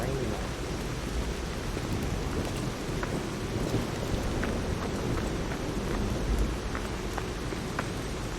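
Steady rain pours through a rainy night at a station in the game Lies of P, with continuous dense hiss and low thunder rumbling underneath, constant and fairly even throughout.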